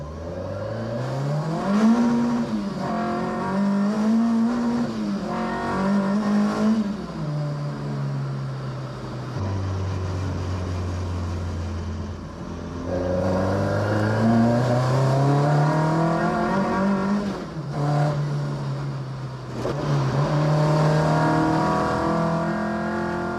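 Cars rev and accelerate away one after another at Santa Pod, engine notes climbing and shifting through gears, loud and close at first, then fading and returning as further cars pull off.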